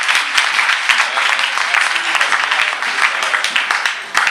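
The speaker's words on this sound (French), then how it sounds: "Applaudissez pour les pasteurs." A youth forum congregation in Lubumbashi applauds the pastors with brisk, close clapping. Sharp individual claps stand out against the thick clatter of the crowd over a few seconds.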